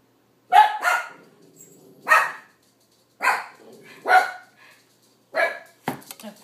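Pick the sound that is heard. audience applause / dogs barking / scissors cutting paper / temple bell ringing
dogs barking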